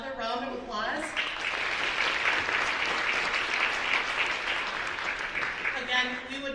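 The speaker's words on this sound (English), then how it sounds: "Let's give them another round of applause." Sustained audience applause at a spring showcase event, dense and steady for several seconds, with a brief voice at the start and end.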